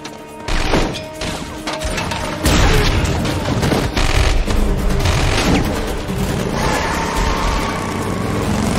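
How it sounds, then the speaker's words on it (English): Gunfire crackles through a chaotic car chase scene from a Bad Boys action movie, with repeated bursts and crashing impacts layered over roaring engines and dense movie sound effects, loud and continuous throughout. "Lay suppression fire!"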